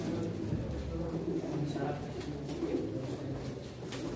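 Crested Arab pigeons coo at a pigeon auction, their low burbling calls running under a busy background of people talking.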